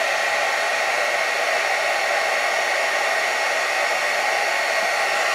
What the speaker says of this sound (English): I'm going to let my heat gun warm up a little bit first.